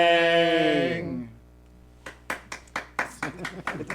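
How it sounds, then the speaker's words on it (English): A sustained sung note fades out at a live performance by a band, then after a brief hush a small audience breaks into sparse, uneven clapping that builds slightly and stays close and clear. "clapping"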